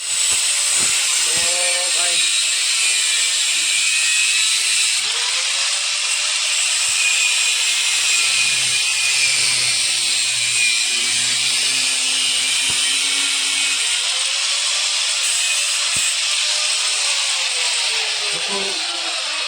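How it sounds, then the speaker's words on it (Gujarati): A power tool cutting metal rings (kada) in a workshop, with a continuous high-pitched grinding hiss running steadily while people talk nearby. "આ શું તમે કરો છો કડા કાપો છો"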